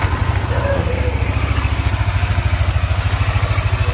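A motorcycle fitted with a TAD-brand racing air filter idles close by, its engine thumping in a steady, even low pulse with a breathy intake rush over the top.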